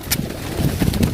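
A pigeon coos in low, soft, repeated murmurs close by, with faint breezy background noise.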